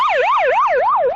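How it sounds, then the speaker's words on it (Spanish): A wailing emergency siren of the kind used by fire engines and ambulances sweeps steadily up and down in a loud, continuous rising-and-falling pattern, close and alone with no talk. "de los bomberos y de las ambulancias"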